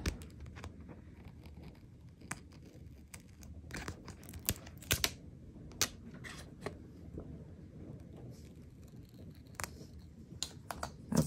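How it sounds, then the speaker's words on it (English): Scissors snip through a diamond painting canvas with a run of quiet, irregular crisp cuts and crinkles close by, no talking. "So just go ahead and cut this part off."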